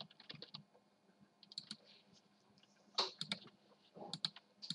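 Clicky keystrokes on a computer keyboard while typing a chat message during an Egg Wars game session, coming in irregular bursts of close taps separated by short pauses, with no voices.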